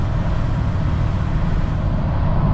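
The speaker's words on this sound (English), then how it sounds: "Let off the gas, I got my exhaust brake on," A steady, loud low rumble of a Ford Powerstroke diesel pickup with its muffler deleted, the exhaust brake engaged and slowing the truck, droning continuously, with no talking.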